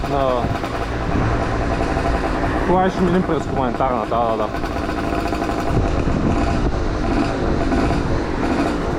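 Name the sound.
80cc motorcycle engine revving while riding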